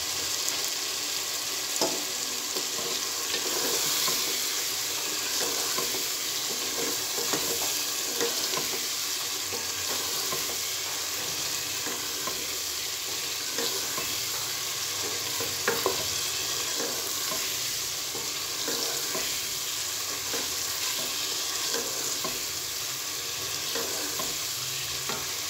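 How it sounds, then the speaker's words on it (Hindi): Fried potatoes and eggplant for Punjabi dhaba-style aloo baingan sizzle in a frying pan, a steady hiss with scraping stirs and occasional clinks throughout, continuous and close without speech. "अब इसमें हम डाल देंगे जी अपने फ्राई आलू जो हमने किए थे"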